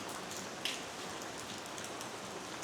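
Steady heavy downpour in southern Vietnam, a dense continuous hiss of drops drumming on surfaces with no pauses.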